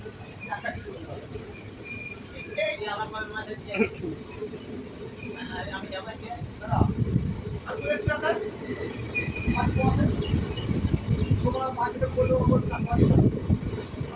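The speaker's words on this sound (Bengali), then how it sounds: "আমাদের ট্রেন এখন নিরল স্টেশন ছেড়ে বেরিয়ে যাচ্ছে" A train pulls away from Niral station, its rumble and rattling building steadily underneath ongoing talk, with rhythmic clatter swelling louder toward the end.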